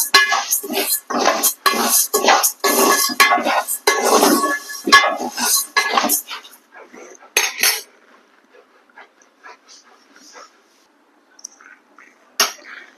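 Ingredients for sunnundalu roasting in a pan over a medium flame, a burst of loud, rapid metallic scraping and clinking of a spoon against the pan that breaks off into sparse light taps and near silence.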